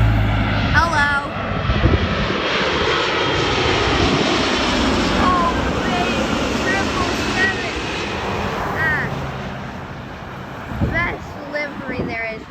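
A British Airways Boeing 777 jet airliner lands at Vancouver airport, its loud engine roar filling the air steadily from a nearby vantage point, with wind noise and people talking over it.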